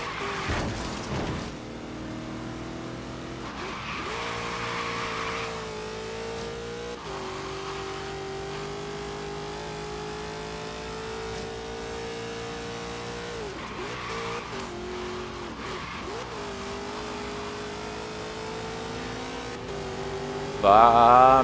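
Engines of cars racing and passing in Forza Horizon 3, during a Hot Wheels expansion event, hum steadily with shifting pitch, dipping and rising as vehicles pass and accelerate, with a louder burst of revving near the end.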